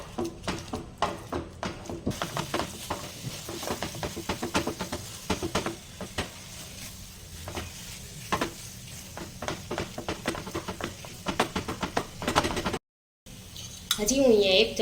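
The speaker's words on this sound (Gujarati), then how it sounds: "આને આપણે ત્યાં સુધી ચલાવવાનું છે કે પેનથી છૂટું ના પડી જાય" Date and dry fruit modak mixture is stirred in a pan, giving repeated scraping and clinking of a spoon against metal that runs steadily throughout, with a brief break near the end.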